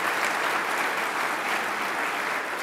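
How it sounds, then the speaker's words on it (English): A symposium audience gives a dense, steady round of applause with no gaps, a full room clapping together at an even level throughout. "let's give Molly Ward a great round of applause for the work that she has done"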